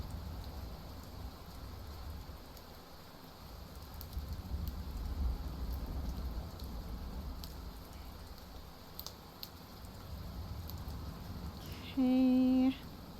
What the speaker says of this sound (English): I have my fake rumbling storm and rain